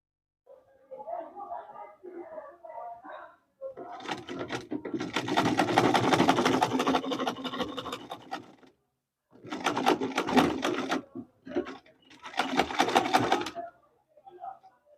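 A sewing machine stitches the yoke of a Queen Anne neckline dress in several close bursts separated by short pauses, after a brief quieter patch.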